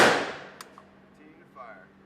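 A single sharp gunshot cracks at an indoor shooting range, loud at the start and quickly decaying, followed by a quiet background hum and a few faint clicks.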